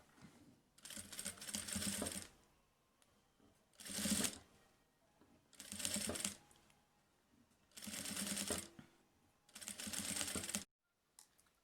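Sewing machine stitching a fabric placemat in four loud, steady bursts of a few seconds each, with brief quiet pauses between runs.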